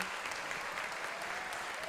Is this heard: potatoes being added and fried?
no